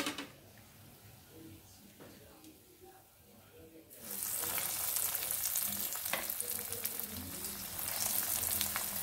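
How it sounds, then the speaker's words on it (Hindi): Potato and poha crispy bites frying in oil: a quiet stretch of soft kitchen sounds, then a loud, dense crackling sizzle bursts in as they hit the hot oil and continues steadily to the end. "और बाकी का बचा हुआ भी हम इसी तरीके से फ्राई कर लेंगे।"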